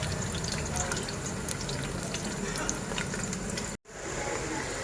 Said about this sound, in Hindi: हमारा प्याज थोड़ा सा फ्राई हो चुका है।